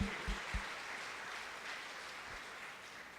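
Congregation applauding during a church service, a steady, fairly faint wash of clapping heard at a distance, with a few low thumps near the start.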